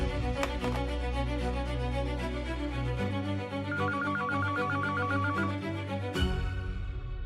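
A mobile phone ringtone plays a looping electronic melody of bright repeated notes, loud and close, with no talk over it.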